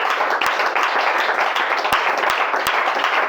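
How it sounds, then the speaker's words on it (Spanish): A church congregation applauding, dense clapping that holds steady throughout, with a few sharp, louder individual claps standing out near the microphone. "Denle el aplauso al Señor."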